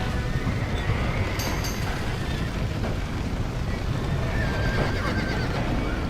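Horses neighing and whinnying in Red Dead Redemption 2 amid a noisy rush of wind and crackle, with hooves clopping, a couple of shrill whinnies standing out over the dense background.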